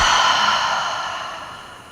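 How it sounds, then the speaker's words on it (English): A single long breath is exhaled through the mouth, close and soft, fading gradually over about two seconds during a yoga flow. "Exhale out through the mouth."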